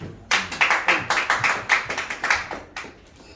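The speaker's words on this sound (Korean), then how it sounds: "박수 한번 주세요." A small group at a Sinchon life-school New Year ceremony claps in a quick, steady run of about a dozen crisp claps that fades out after a few seconds, heard fairly close with no talk.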